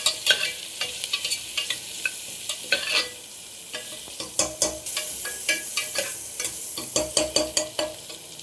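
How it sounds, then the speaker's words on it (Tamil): Onions frying in a pan until golden brown, a close, steady sizzle broken by frequent sharp clinks and scrapes of stirring at an uneven rhythm, with no voices. "கொஞ்சம் கோல்டன் ப்ரௌன் வர வரைக்கும் நல்லா ஃப்ரை பண்ணிக்கோங்க"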